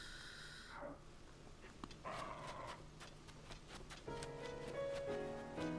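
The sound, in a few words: dog barking in the video game Zelda Tears of the Kingdom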